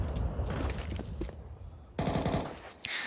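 Rapid bursts of Counter-Strike gunfire crackle in two clusters with a brief lull between them, loud and close, with no talk over them.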